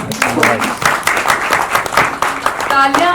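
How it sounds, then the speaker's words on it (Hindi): Crowd applause at a film screening, loud dense clapping from a close audience with a few voices and cheers mixed in. "एक बार जोरदार तालियां सभा जी।"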